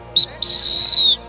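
A whistle is blown to start a game of musical chairs at a Sankranti celebration in Nellore: a short chirp, then one loud, sustained shrill blast about three quarters of a second long.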